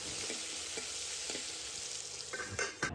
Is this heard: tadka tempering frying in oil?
yes